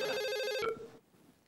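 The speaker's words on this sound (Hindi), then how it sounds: "मैडम, आपका फोन है।" A telephone ringtone chirps in a rapid warbling pattern, loud and close, then stops abruptly and fades into quiet.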